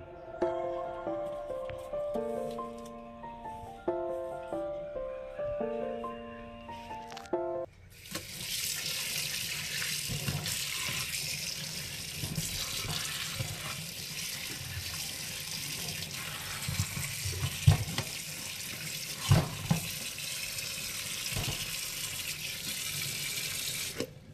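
Lychees being washed under a running tap: a steady rush of water into a sink with a few splashes and clatters, after some tonal music at the start.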